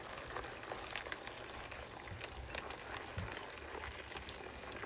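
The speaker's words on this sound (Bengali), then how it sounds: "রসুন আর আদাটা ভালো করে আপনারা ভুনে নেবেন।" Garlic and ginger sizzle steadily in hot oil in a pan, a continuous crackling hiss with small pops, close and even throughout, with no voices.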